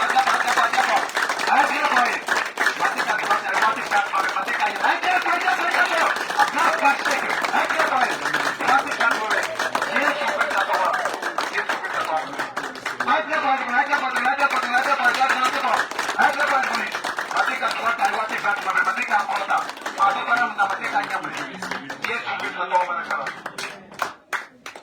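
A church congregation claps and applauds to acclaim the Lord, with steady, dense clapping and crowd noise filling the room for the whole stretch, mixed with voices.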